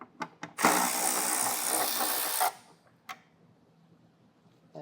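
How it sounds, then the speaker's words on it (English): A power driver with an 8mm socket removes the plastic taillight screws on a 2017 Ford with the hatch open; a few short clicks, then a steady two-second whir up close, followed by a brief tap. "We're going to grab an 8mm socket and we're going to get our taillights removed."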